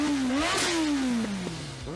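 A Kawasaki Ninja ZX-11 (ZZ-R1100) sport motorcycle engine revs up sharply, then its pitch slides down as it passes or shifts, followed by short throttle blips, loud and close.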